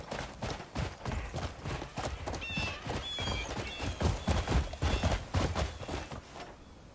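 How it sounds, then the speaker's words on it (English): Horse hooves clip-clop in a steady walking rhythm in the video game Crimson Desert, with soft bird chirps and a faint whinny-like tone in between. "That horse seems fond of you, Greymane."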